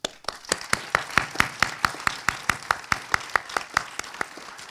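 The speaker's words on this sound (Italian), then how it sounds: "facciamo a loro un grande applauso collettivo" A regular run of about twenty sharp, evenly spaced claps rings out at a festival opening night in Pordenone, sounding more like a few hands clapping in a steady rhythm than a dense audience ovation, with no talk.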